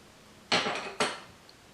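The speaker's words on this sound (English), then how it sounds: "tap the coconut shell around the equator, the pre-scored line, until you completely crack open the coconut shell." Two sharp taps on a coconut shell along its pre-scored equator to crack it open, each a hard, hollow knock with a short ring, close and alone.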